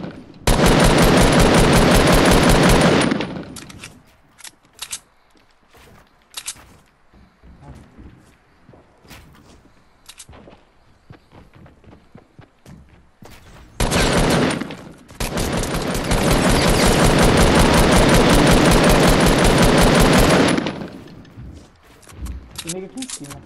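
Gunfire in the video game Fortnite, long dense bursts of rapid automatic shots alternating with scattered single shots and footsteps, while players talk over the action.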